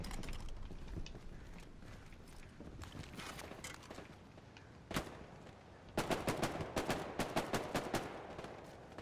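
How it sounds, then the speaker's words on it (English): Gunfire in Hell Let Loose, a World War II shooter, with distant scattered shots early, then a louder burst of rapid repeated shots near the end, over faint background noise. "That dude started shooting at me and he lit that tree up"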